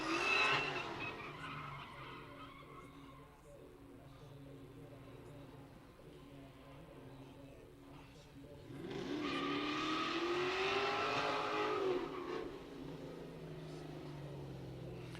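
A bright red LS-swapped Nissan 240 swings donuts in a drift pit, its V8 droning steadily while tires squeal and skid in a long rising smear, loud and sustained, with people talking over it.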